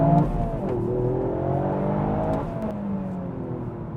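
A 2021 Toyota GR Yaris hot hatch engine revs hard and climbs through the gears, loud and close, with a steady rising roar and brief shifts between pulls.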